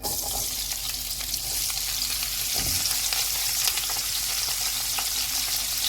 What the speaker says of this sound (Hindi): अब इसी ऑयल में हम सब्जियों को भी फ्राई कर लेंगे।